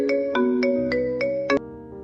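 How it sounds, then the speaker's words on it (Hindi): A phone ringtone plays a short melodic phrase of six bright repeated chimes over a sustained tone, cutting off abruptly into a fading hum; no one speaks over it. "किसका फोन है"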